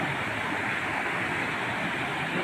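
River water rushing and flowing steadily close by in a village setting, a continuous broadband wash with no voices.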